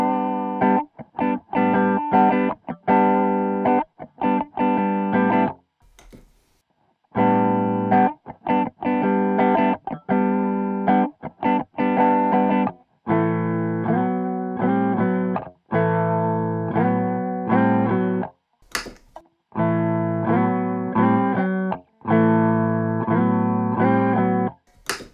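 An electric guitar plays through an EHX Big Box Doctor Q envelope follower, giving a loud quacky auto-wah on rhythmic chord stabs. Short bursts are split by brief pauses, and no voice is heard.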